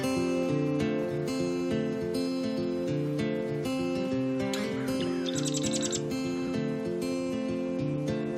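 Migratory shorebirds on the Grays Harbor tide flats chirp and tweet, with a quick burst of high calls near the middle, set against a steady layered tonal backdrop.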